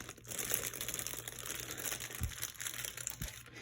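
Original cellophane wrapper on a vintage 1980s Japanese model kit crinkling close up, a continuous crackly rustle with a couple of soft thumps as the box is handled, no speech.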